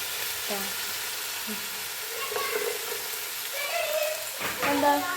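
Prawns sizzle in a hot pan for prawn biryani, a steady close frying hiss with stirring clatter, while voices talk faintly in the background.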